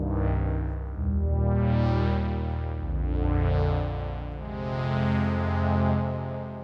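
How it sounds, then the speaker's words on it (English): A warm, dry Yamaha CS-80 analog synthesizer pad plays sustained chords with slowly sweeping filter swells, clean and without any reverb tail. "And so I've got here just a nice CS80 patch."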